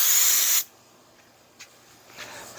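Spray paint blasting onto a plastic door handle in one loud, close hiss lasting about half a second, then cutting off to near silence with a couple of faint clicks.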